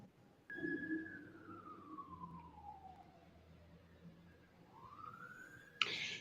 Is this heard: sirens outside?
yes